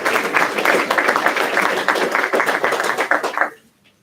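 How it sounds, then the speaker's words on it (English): At a grand opening and ribbon-cutting ceremony, a crowd gives the cheerleaders a round of applause, dense, steady clapping that stops abruptly near the end. "So let's give the cheerleaders a round of applause"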